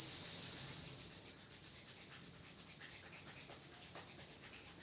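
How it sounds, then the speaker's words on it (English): Palms rub slowly back and forth against each other close to the mic, a soft, rhythmic swishing that starts louder and settles into an even, regular stroke pattern without speech. "Slowly rub your palms."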